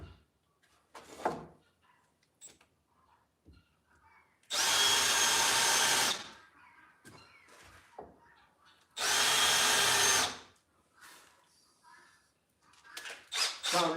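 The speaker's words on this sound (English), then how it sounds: "Countersink done." A power drill countersinks a screw hole in a woodworking shop in two loud, steady bursts of about a second and a half each, with quieter handling noises and tool clatter between them.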